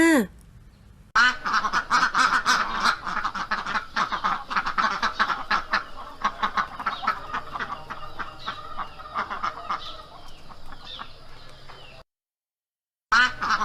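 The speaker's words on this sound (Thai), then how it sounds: "เจ้าเป็ดนั่นเองว่ายน้ำเล่น กินหอยปูปลา" Rapid, close duck quacking in dense, raspy bursts, continuing for about eleven seconds before a short silence.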